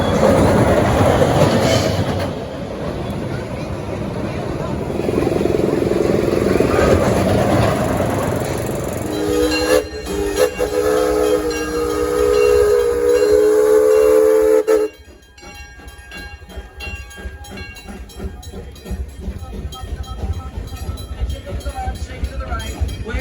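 An amusement park train ride at Six Flags rumbles and clatters along its track, its whistle sounding partway through. Voices carry over the noise before it quiets to a lighter, fainter rattle.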